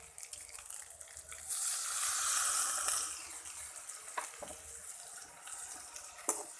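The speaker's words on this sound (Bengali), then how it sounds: "এবার একটু জল দিয়ে দেবো।" Water poured into a pan of cooking pea greens, a brief rushing hiss and splash swelling in the middle, then settling into soft sizzling with a few sharp clinks.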